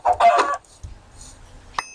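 Chickens in the video game Minecraft give a quick burst of clucks, then a few faint, scattered clucks and a short final peep in under two seconds.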